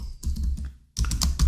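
Quick bursts of keystrokes clatter on a laptop keyboard, close and crisp, with a short pause before another rapid run of typing.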